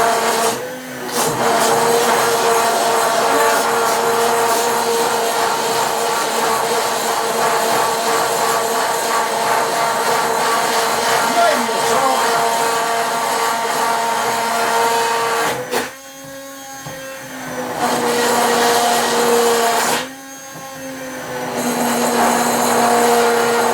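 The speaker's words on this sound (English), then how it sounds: "get your mixture and prepare to blend. Now this is going to be noisy." Kitchen blender blending a mixture for sausage-stuffed chicken, a loud, steady whirring motor roar running continuously, dipping briefly twice as the load changes before revving back up, close and with no talk.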